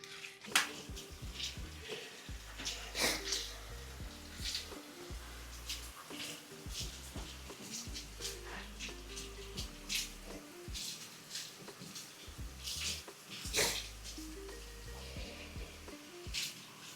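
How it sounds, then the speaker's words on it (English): Potted variegated monstera plants being watered in a shower, running water splashing and trickling into soil and the tray, with intermittent knocks and pot handling sounds, close and moderately quiet with no speech. "let's go ahead and take these to the shower and give them a good watering."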